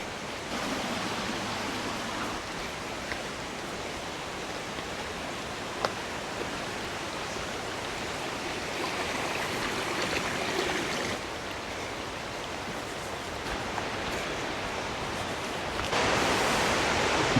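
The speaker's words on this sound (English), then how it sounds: "Oh, you can hear the noise of the water now." Creek water at Josephine Falls rushes steadily, a dense broadband roar from start to finish, fairly soft and constant with no voices.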